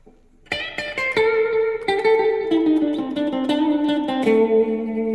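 Clean electric guitar notes from a Schecter HW-3CTM with EMG 89XR humbucker pickups ring out one after another, bright and sustained, played as a short melodic solo line.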